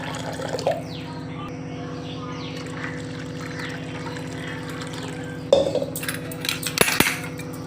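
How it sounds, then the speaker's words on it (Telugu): Water is poured into a bowl of buttermilk with a soft liquid splash over a constant mechanical hum, followed near the end by a few clinks of a utensil against the dish. "ఇంకొన్ని నీళ్ళు వేసుకోవాలి"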